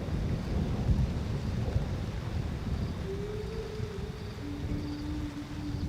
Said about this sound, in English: and it starts to rain in Undutu.